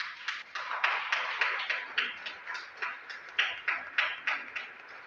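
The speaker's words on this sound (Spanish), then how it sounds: "Un aplauso a los papás." A church congregation claps together in a sustained round of applause during Sunday Mass, moderately loud and a little distant, with no one talking over it.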